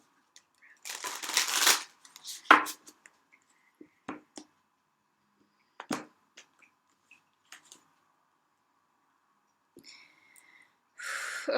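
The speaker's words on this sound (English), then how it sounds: "even now, as I was shuffling" Druid Craft Tarot cards being shuffled by hand, with a loud riffling burst followed by scattered soft clicks and card taps, close by in a quiet room, ending with another brief shuffle.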